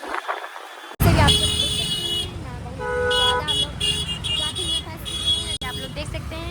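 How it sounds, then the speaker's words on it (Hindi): Dense city traffic with repeated car horns honking, loud and close, a continuous roadway rumble underneath and a voice talking over it. "आप लोग देख सकते हैं कितना ज़्यादा यहाँ पे ट्रैफिक है"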